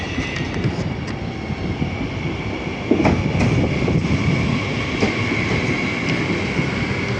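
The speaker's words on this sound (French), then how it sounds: "Je viens de voir qu'effectivement, il y avait un Z50 qui est arrivé" Z50 commuter train arriving at Nanterre Université station, a steady rumbling roll with rhythmic wheel clatter and a faint whine, heard at a moderate distance with no talk.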